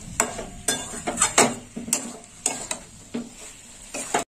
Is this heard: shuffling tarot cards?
no